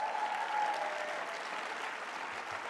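A conference audience at a political summit breaks into sustained applause, a dense steady wash of clapping that holds at an even level throughout, with no voices rising above it.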